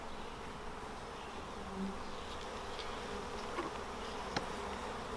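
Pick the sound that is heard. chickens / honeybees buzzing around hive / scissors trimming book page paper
honeybees buzzing around hive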